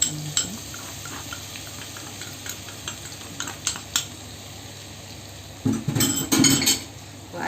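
A spoon stirring flour into melted butter in a pan while making a béchamel-style sauce, with soft scraping and light clinks against the pan, a brief sizzle, and a louder burst of stirring near the end.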